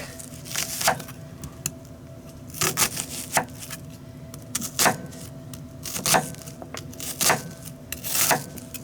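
A knife slices a vegetable on a cutting board in a home kitchen, giving a series of crisp, close cutting knocks in an uneven rhythm against a quiet background, with no one talking.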